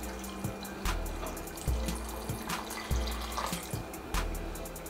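Water is poured into a single serving of jaljeera mixed with roasted cumin and asafoetida, making close, steady trickling and splashing with repeated rhythmic glugs and drips.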